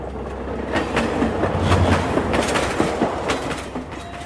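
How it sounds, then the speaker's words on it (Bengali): A train rushes through a station at high speed at night, its rolling rumble and clickety-clack of wheels on rails loud and continuous throughout, with a low rumble swelling briefly near the middle. "একটা ট্রেন প্রবল গতিতে স্টেশন পার হচ্ছে"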